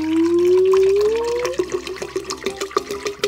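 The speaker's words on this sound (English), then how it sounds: "we are going to fill each of these containers up with water" Water pouring into a container for a kids' color-mixing experiment, a rising filling tone climbing in pitch over about a second and a half, then turning into choppy splashing and gurgling, close and fairly loud.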